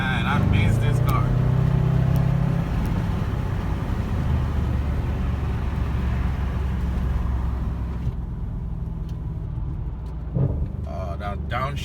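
An Audi RS5, just back from two weeks of repairs, downshifts while driving, its engine note dropping and blipping amid loud cabin and road noise, with someone talking over it.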